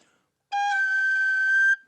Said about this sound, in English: And the Irish whistle, that works in a similar way.